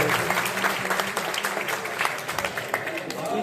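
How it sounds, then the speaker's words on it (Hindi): An audience applauds at a 96th birthday event to welcome a guest, with steady, dense clapping that continues for the whole span under a faint murmur of voices. "जरा तालियां बजा करके स्वागत करिएगा"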